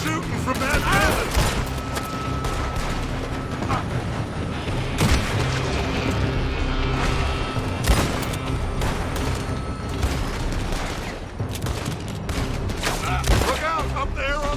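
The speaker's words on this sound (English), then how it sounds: "They're shooting from that village!" Video game gunfire from a village: a dense, continuous barrage of shots and booming blasts, loud and close, with voices mixed in throughout.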